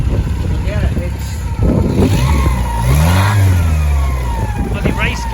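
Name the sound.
custom Mini Metro trike engine revving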